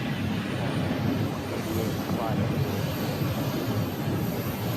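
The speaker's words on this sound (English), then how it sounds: "And we do have another departure coming off right there." Airbus A321 airliner departing Phoenix airport in the morning, a steady, broad jet roar held at moderate distance throughout, with faint voices underneath.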